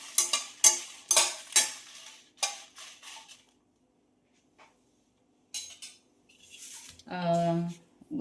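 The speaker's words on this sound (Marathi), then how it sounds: "आता ह्या भाजून घेते मी मिरच्या" Green chilies roast in a pan, with a series of close clattering stirs and scrapes against the pan, a quiet pause, then more stirring and a brief louder hiss, with someone talking in between.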